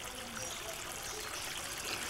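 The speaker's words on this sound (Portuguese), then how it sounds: "Isso é esgoto da casa de cima da Daniela passando pelo cano alto e sendo d" House sewage water pours from a high pipe into a ditch, a continuous trickling, splashing rush that is steady and moderately faint, with no talk over it.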